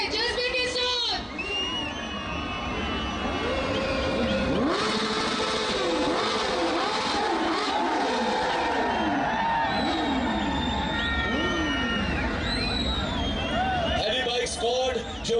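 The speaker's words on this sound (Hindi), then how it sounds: "वेलकम कीजिए भरपूर तालियों से, शोर से, जज्बे के साथ" A large outdoor crowd cheers at an Independence Day ceremony in Islamabad as heavy bikes rev and vintage cars roll past, a continuous loud roar with rising and falling engine whines and an announcer's voice over it.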